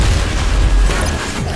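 A grenade explodes in the video game DOOM Eternal, a heavy booming blast with a dense low rumble that fills the moment, loud and close, with no talking.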